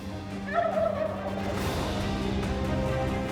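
A wild turkey gobbles once in a rolling, warbling burst close by, then ambient outdoor hiss lingers with no voices.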